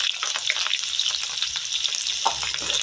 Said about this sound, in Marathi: जिरं मोहरी टाकली जी तेलात